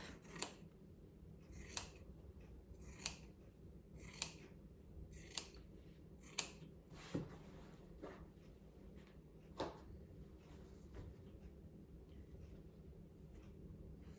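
Scissors trim the extra fabric edge off a pair of pants, with about ten crisp snips at a slow, fairly regular pace, then quieter handling. The sound is close, soft and unaccompanied by talking.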